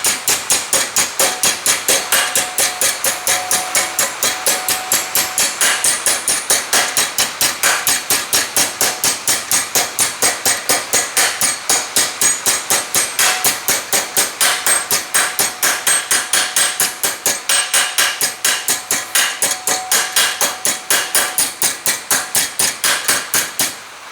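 Sheet metal brackets for a 1960 VW Double Cab, clamped in a form and hammered: a long, relentless series of rapid, evenly spaced metallic blows, loud and close, continuing for the whole stretch with no talk.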